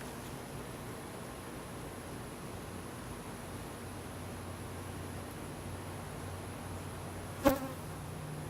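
Honey bees buzz steadily around an open beehive during an inspection, a continuous close swarm drone with one brief louder knock or rustle near the end.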